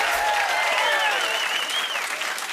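A studio audience at a television comedy news show claps loudly and steadily throughout, with a voice speaking and exclaiming over the applause.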